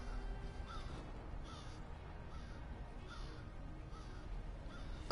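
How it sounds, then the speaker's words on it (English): A crow in Monster Hunter World squawks in a regular series of caws, about five evenly spaced calls, heard clearly over a steady game ambience. "My crow buddy's squawking at me."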